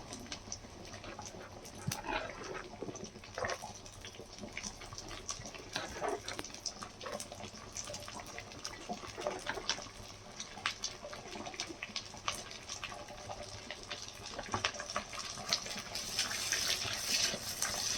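Onions drop into hot oil with curry leaves for pepper chicken, a steady crackling sizzle with irregular pops that grows a bit louder toward the end.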